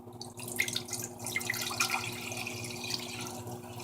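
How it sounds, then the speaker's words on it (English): Water pours steadily into a pan on a stovetop for pretzel dough, a continuous close splashing and gurgling stream with no voices. "I'm just gonna pour my water in"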